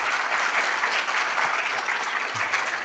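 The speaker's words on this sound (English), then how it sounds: "can you please give them all one more round of applause?" An audience gives a round of applause for a group of medical educators at an intern application session: dense, sustained clapping that stays steady for the whole stretch.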